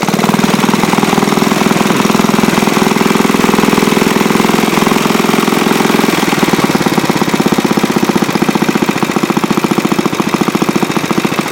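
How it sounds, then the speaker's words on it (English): Antique Briggs & Stratton engine, restored after being seized, running steadily with a loud, close, rapid chugging put-put that continues without pause throughout. "I don't even know what the idle's supposed to be on that, Mike."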